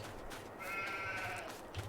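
Sheep bleating in Farming Simulator 22, one soft wavering bleat over a steady wash of ambient game background, faint and somewhat distant.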